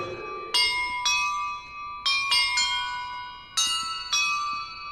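Bells ring in a fantasy video game, with a series of clear metallic strikes in irregular pairs, each tone ringing out and decaying, close and distinct without talk.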